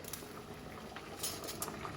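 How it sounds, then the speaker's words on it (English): A small handful of pasta drops into a pot of boiling water, giving a steady close bubbling hiss with a few light splashes and clinks. "I'm going to pop that in some boiling water here"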